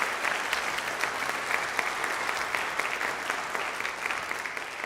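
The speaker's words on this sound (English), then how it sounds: "So let's give them one more round of applause." Audience applause at a high school jazz band concert, a steady, dense round of clapping that fills the hall for several seconds with no talking over it.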